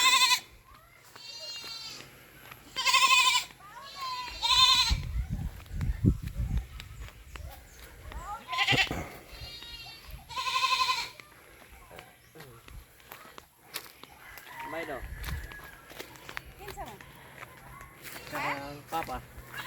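Several goats bleat in loud, wavering bursts on a small farm in drought-hit Bohol, with ducks kept caged nearby, footsteps shuffling and people talking between the calls.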